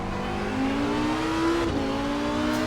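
In the racing game Assetto Corsa Competizione, a Lamborghini Huracan EVO engine drones loudly and continuously with a steady harmonic whine. It holds near constant pitch, then briefly dips and shifts as if changing gear before droning on.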